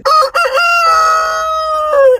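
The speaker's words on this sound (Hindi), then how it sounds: "मुर्गे की बांग" A single loud, close rooster crow, drawn out into a long sustained call that rises and then tapers off.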